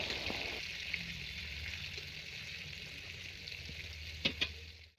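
Sliced pointed gourd (potol) fries in a shallow layer of oil, a steady close sizzle with a couple of sharp spatula scrapes near the end as it is turned.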